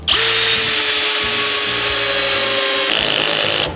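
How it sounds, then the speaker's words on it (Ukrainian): A CD-201HBC Compact cordless drill-driver runs at first speed with the clutch at setting 20, driving a construction screw into wood: one loud, steady whirring burst that holds for a few seconds, then shifts tone briefly before it stops. "І пробуємо закручувати. Для початку я закручую на 20-й муфті на першій швидкості."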